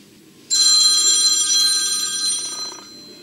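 A telephone bell rings loudly and close after a quiet start, one long continuous metallic trill lasting over two seconds before fading.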